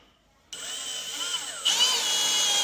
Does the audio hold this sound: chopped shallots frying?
no